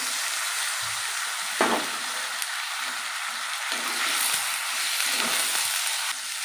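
Onion paste with ginger and tomato sizzles and fries steadily in a pan, a dense close hiss with a few soft stirring scrapes and no talking.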